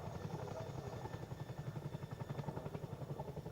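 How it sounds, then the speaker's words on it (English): A Chinook twin-rotor helicopter at the Cosford Airshow, a steady rhythmic rotor thump and turbine whine at moderate distance, continuous and fairly loud with no voices. "And now for another Chinook party trick, the reverse taxi and takeoff."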